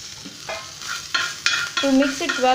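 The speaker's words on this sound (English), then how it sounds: "Now add a pav bhaji masala to it, and after then and add coriander to mix it well." Pav bhaji masala and chopped coriander stirred into hot butter in a pan, with scraping spoon strokes over a soft sizzle, the strokes growing louder and more frequent toward the end.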